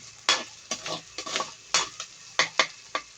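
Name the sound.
stirring pork sisig with pepper in a pan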